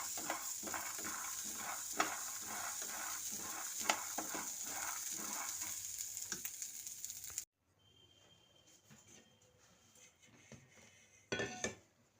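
Chickpeas being lightly dry-roasted in a pan give a quiet, rhythmic rattle and scrape of stirring for several seconds, then a near-silent pause and a brief final clatter, close and faint.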